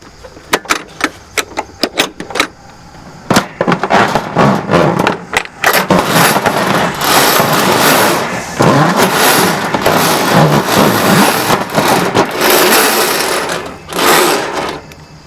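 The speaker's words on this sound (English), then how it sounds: "I'm first going to feed a 15-foot section of 1 1/4 cable through the machine to the back of the guide hose." A Milwaukee M18 FUEL sewer sectional machine with cable drive feeds a 15-foot section of 1 1/4-inch cable. A few sharp clicks come first, then a loud, sustained motor whir with brief dips.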